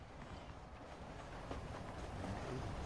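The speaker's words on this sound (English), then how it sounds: "You hear the train. There's the train." A train rolls past in the Western video game Red Dead Redemption, a steady, faint, distant rumble with soft clattering and no other sounds over it.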